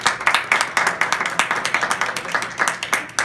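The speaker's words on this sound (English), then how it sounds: "please, a round of applause." Applause from a Toastmasters audience at an award presentation, a modest group clapping nearby in quick, individually audible claps with a rough, steady rhythm and fairly loud presence.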